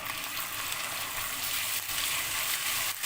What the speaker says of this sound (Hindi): ये अदरक लहसुन और गरम मसाला अच्छे से भून गया है